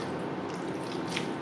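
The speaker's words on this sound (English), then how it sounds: "get a little bit of the pulp, a handful, rinse it in this water" Palm nut pulp is squished and rinsed by hand in warm water, giving a brief close sloshing and squelching with small drips.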